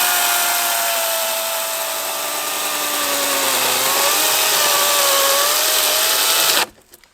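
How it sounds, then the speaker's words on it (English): A battery-powered chainsaw cuts through a cedar log with a steady, close electric whine whose pitch sags and climbs under load for about six seconds, then cuts off abruptly. "I brought everybody's least favorite chainsaw, the battery operated one"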